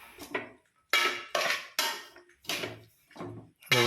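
Pomegranate lemon pickle being stirred in a pot with a spoon, giving a series of six or seven distinct scraping, clinking strokes in an uneven rhythm, close by with no talking.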